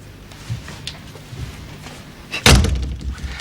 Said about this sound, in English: why don't you come in and shut the door?